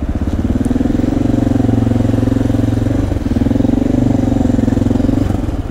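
A Honda XR650L single-cylinder motorcycle engine runs steadily with a loud, close, throbbing idle-like pulse, a brief dip in the middle before it settles again.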